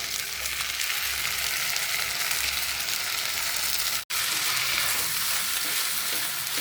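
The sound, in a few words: kangkung stir-frying in a pan with sauce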